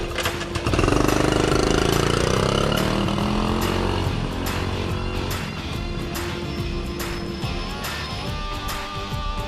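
A 1974 Honda Trail 90 motorcycle engine runs up close, a loud throaty rev that rises at the start and then settles into a steady buzzing idle with a faint voice briefly underneath.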